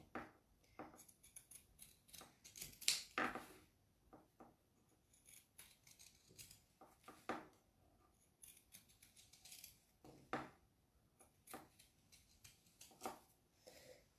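Zigzag pinking scissors cut fabric around the rounded edges of a bib. Irregular crisp snips and blade scrapes come in quick clusters, close and quiet, with no talk.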